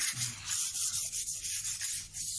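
Grit paper rubs back and forth over a wooden bread board, a quick run of close, rhythmic scratchy sanding strokes with no talking.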